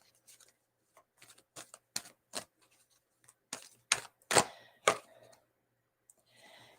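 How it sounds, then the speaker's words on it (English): Angel answer cards handled and shuffled close up, a series of quiet papery snaps and flicks in an irregular rhythm that grows louder toward the end. "I'm going to get the angel answer cards"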